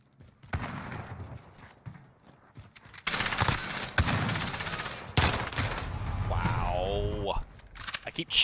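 Gunfire in a multiplayer shooter game cracks in rapid bursts and volleys, loud and close, mixed with other game effects and a voice talking over part of it.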